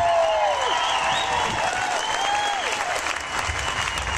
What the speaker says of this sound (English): give Grace Kelly a huge round of applause.